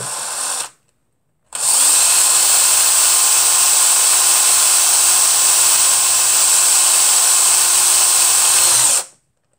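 A power drill whines steadily and loudly while stripping paint from a small Majorette die-cast toy car, a brief burst first, then a short pause, then one long continuous run that cuts off.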